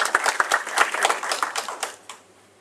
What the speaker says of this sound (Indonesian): Boleh minta tepuk tangannya Bapak Ibu sekalian?